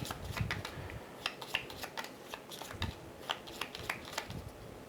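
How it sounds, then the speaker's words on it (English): Cards from the Night Raid deck in a board game are shuffled by hand, with soft, close, irregular riffling snaps and taps over a quiet room. "After the memories resolve, you just shuffle it back into the Night Raid card."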